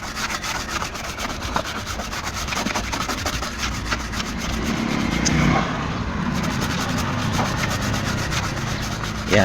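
Someone scrubs the solder side of a circuit board from a Minsound 21-inch CRT TV, making a continuous close, steady rubbing and brushing sound that lasts throughout with no talk.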